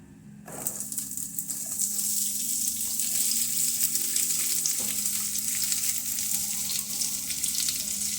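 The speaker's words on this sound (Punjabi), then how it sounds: "ਮਸਾਲੇ ਭੁੰਨ ਹੋ ਗਏ ਹੁਣ ਆਪਾਂ ਪਿਆਜ਼ ਪਾ ਦਵਾਂਗੇ" Onions added to freshly roasted spices fry in a pan for paneer curry, with a sudden loud sizzle that settles into steady crackling hiss, and light stirring scrapes near the middle.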